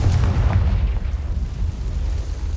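A Confringo blasting spell explodes in the Hogwarts Legacy video game, a dense, loud rumbling boom that rolls on continuously for a couple of seconds without any voices.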